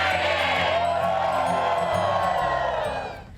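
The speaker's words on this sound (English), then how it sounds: "I heard a lot of students cheering" Crowd of students cheering and whooping together, loud and sustained for about three seconds before fading, with scattered shouts mixed into the roar.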